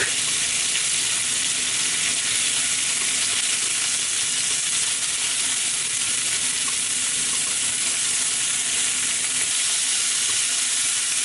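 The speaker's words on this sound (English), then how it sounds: "put meat, pork meat, and stir fry until the pork meat normal pink" Pork meat stir-frying with ginger in a pan over medium heat, with a loud, continuous, dense sizzle and hiss that stays steady throughout, close by and without talk.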